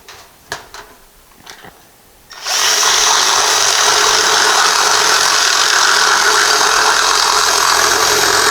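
A power drill starts after a few light knocks and runs continuously at a steady, loud whine for several seconds, opening up the bottom of a hole while working on a 1955 car.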